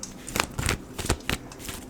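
Tarot cards being shuffled by hand, a run of brisk riffling bursts in an uneven rhythm, close and clear with no talking.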